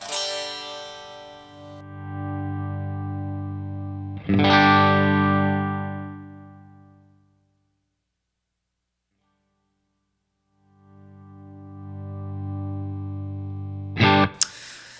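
Sustained electric guitar chords rise in volume and fade out through an Ernie Ball VP Jr. volume pedal and effects, followed by silence, then another slow swell and a sharp pick attack at the end.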